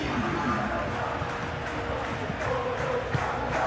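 A dense, steady roar of a capacity stadium crowd in a PES 21 football simulation of Celta Vigo against Barcelona, a continuous wash of massed voices with no single standout cheer.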